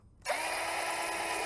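A power drill bores a pilot hole into a wooden fence, kicking in abruptly and then whirring at a steady high pitch, loud and close.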